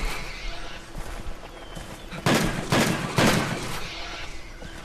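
Gunfire from a pellet-loaded gun in a video game, three loud sharp bursts close together in the middle of the clip over a low background bed of game ambience.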